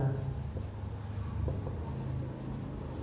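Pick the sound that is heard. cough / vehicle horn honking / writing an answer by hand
writing an answer by hand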